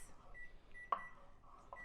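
A kitchen timer is set for cooking Scotch quail eggs, giving a few short, quiet electronic beeps and a sharp click in an otherwise calm kitchen.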